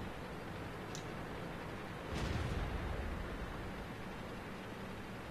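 A tank cannon shot from a T37 light tank in World of Tanks, a single dull boom at about two seconds that rises briefly from a constant noisy hiss of engine and wind, fairly faint overall.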